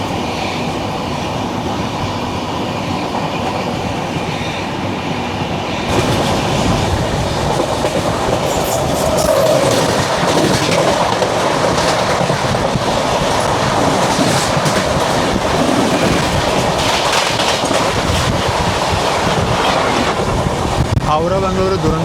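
The Howrah–Bangalore Duronto Express runs through Kavali station, a rumbling rush of rail cars with rhythmic clattering that grows louder after the first few seconds and stays close, with wind noise and some voices underneath.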